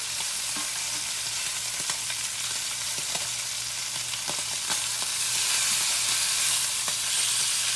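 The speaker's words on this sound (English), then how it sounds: "Frying ham makes a mess, but it sure is good, y'all." Ham frying in a pan for a Southern Sunday supper, a loud, continuous crackling sizzle heard close up, with occasional pops and light stirring clicks and no talking.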